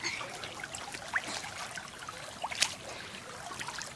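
Creek water trickling near a house, a faint, soft continuous babble with occasional small splashes and drips, quiet and fairly close with no talking.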